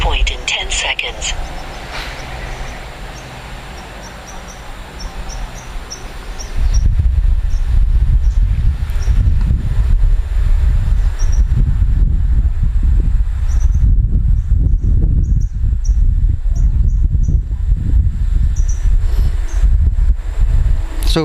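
Strong wind roars across the microphone during a DJI Mavic Pro drone flight, a loud, steady buffeting rumble that thickens after the first few seconds and continues without a break.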